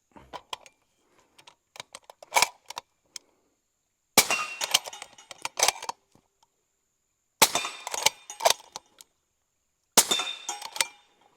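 An 8.6 Blackout rifle fires four separate sharp, loud bursts spaced about three seconds apart. Metallic clatter and ringing tails follow each one, with softer mechanical clicks and handling noise in the first few seconds.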